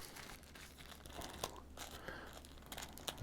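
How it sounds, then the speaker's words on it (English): Crinkling plastic rustles close by as a plastic bag from a headphone box is torn open, with a few sharp crackles and crunches over a steady low hum. "there's this plastic bag. Let's open this up"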